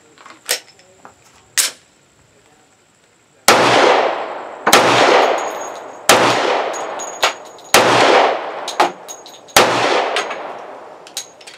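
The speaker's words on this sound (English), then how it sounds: "So now we're going to do the 230 grain hard cast from Double Tap. Let's see how those shoot." A Springfield Armory XDm Elite 10mm pistol fires 230 grain Double Tap hard cast rounds outdoors, with five loud sharp shots spaced about a second apart, each followed by a short echoing decay, and a couple of faint clicks before them.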